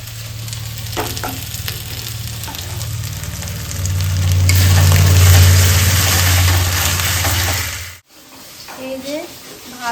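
Spices sizzling and being stirred in a pan for a country chicken curry, a steady close frying hiss with scraping stirs that swells louder midway, then cuts out as a voice speaks briefly.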